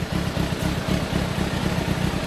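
A 1988 Suzuki Wolf 250 two-stroke motorcycle fitted with a Sugaya expansion chamber idles close by with a steady, lumpy low throb that pulses evenly throughout.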